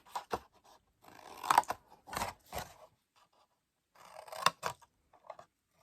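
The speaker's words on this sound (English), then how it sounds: "And trim that angle." Scissors snipping paper while trimming angles on a handmade Stampin' Up! Christmas gift box, a few close, crisp cuts in short bursts separated by brief pauses.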